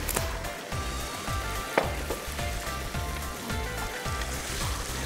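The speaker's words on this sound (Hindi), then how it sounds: "थोड़ा सा इसको भूनते हैं" Steady frying sizzle from a karahi of Balochi tikka, loud and continuous with a low rhythmic pulsing underneath and a few sharp pops and clinks, no talk.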